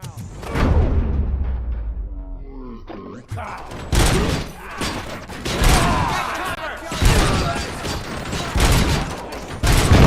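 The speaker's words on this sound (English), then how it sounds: "Hey, am I hearing gunshots?" RoboCop: Rogue City gunfight: a falling rumble gives way to dense, loud bursts of automatic fire with impacts and crashing debris, continuing in heavy waves to the end.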